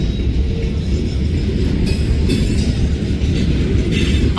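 A train rolls past close by, its railcars producing a loud, steady rumble with wheel clatter that holds for the whole stretch without letting up.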